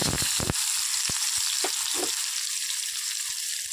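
Onion pieces frying in a pan of oil with cumin seeds, curry leaves and a little turmeric: a steady, close sizzle with a few short stirring taps over nearly four seconds.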